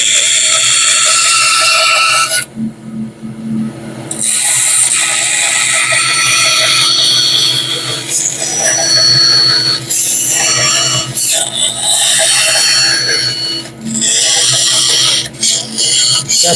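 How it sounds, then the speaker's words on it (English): A bandsaw cuts out a wooden shape, its loud steady whine and rasp running almost continuously, dropping out briefly once and dipping a few times as the blade works through the wood. "The bandsaw you can't turn as easy as a scroll saw."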